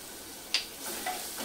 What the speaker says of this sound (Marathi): हाही आपल्याला टोमॅटो आणि कांदा छान 5 मिनिटं परतून घ्यायचं आहे